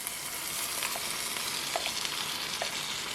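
Ground beef and onions sizzle steadily in a hot pan, a continuous close crackle with occasional pops and no talking.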